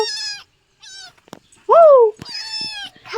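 A sleepy cat woken at home gives several meows, one long bright call in the middle, with short pauses between; a nearby voice also imitates the meowing.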